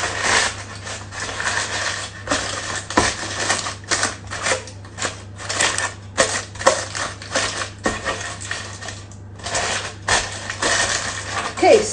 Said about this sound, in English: Scrunch up your baking paper into a ball and then open it out again carefully